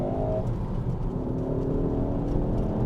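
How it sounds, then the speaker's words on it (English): A Mk3 Ford Focus ST engine accelerating, its meaty induction note a steady, loud, low drone with rising harmonic tones held throughout, no voices over it. "It's got a really meaty induction note"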